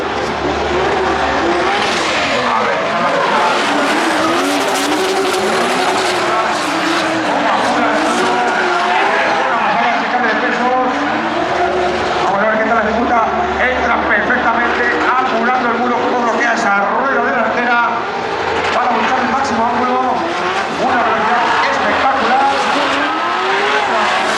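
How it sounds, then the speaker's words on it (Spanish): Cars drift at a Drift Masters GP exhibition, with engines revving hard and long tire squeals continuing loudly throughout, mixed with crowd noise and people talking nearby. "vamos a ir a la zona de Ball Race, donde tiene una exhibición de drifting"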